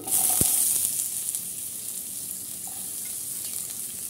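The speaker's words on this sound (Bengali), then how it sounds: "এখন কিছুটা তেল দিয়ে দিব, সেই তেলের উপরে দিয়ে দেব পেঁয়াজ কুচি" Chopped onion dropped into hot oil for a vegetable curry with pumpkin lentil dumplings, a loud initial sizzle that settles into a steady hiss with a faint clink or two, heard close.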